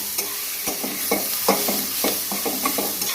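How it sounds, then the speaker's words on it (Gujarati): Tomatoes being stirred and sautéed in a pan for a tomato-onion side dish, a steady sizzle under repeated scraping strokes of a spoon, close and moderately loud, with no talking. "આ રીતના આપણે સખત એને હલાવતા રહેવાનું છે નીચે બળી ના જાય"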